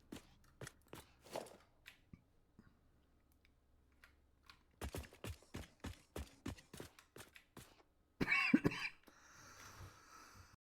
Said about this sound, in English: Still got a little bit of chesty cough going on.